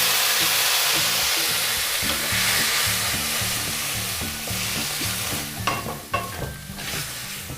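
Fish head masala with papaya sizzling loudly in a pan right after a cup of water goes in, a dense continuous hiss and bubbling with rhythmic stirring thumps and a few scraping clinks toward the end, close and without voices.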